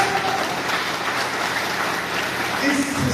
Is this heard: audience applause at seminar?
yes